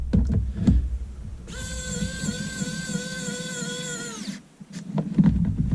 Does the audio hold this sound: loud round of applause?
no